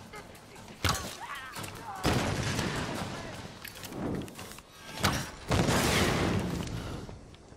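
Bursts of gunfire crack through a Tomb Raider firefight, several loud volleys and single shots spread across the stretch, with a voice speaking between and over the shooting.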